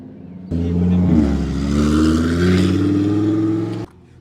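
A pair of Lamborghini Huracán supercars roar past close by, one after another, their engine note loud and sustained with a rising pitch before cutting off abruptly.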